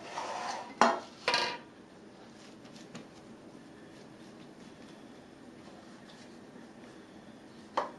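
Babka loaves dropped into a greased baking pan, with a couple of sharp clattering knocks near the start, then a quiet room and one last small clunk at the end.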